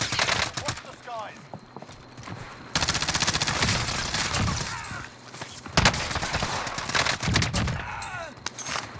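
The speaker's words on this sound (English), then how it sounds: "he started shooting at me. So I had to shoot back, 'cause I was in the open still." Gunfire rattles in the Warzone video game in solos, with bursts of rapid shots near and far, several loud volleys overlapping game sounds and footsteps, while someone talks over the action.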